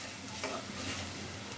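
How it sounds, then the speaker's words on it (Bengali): Spices with sliced green chillies and turmeric are stirred in hot oil in a frying pan, giving a steady, close sizzle with soft scraping of the spoon throughout. "মশলাটা কষিয়ে নেব"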